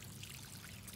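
A backyard waterfall trickles and pours into a fish pond, making a faint, continuous, even wash of falling water with no voices.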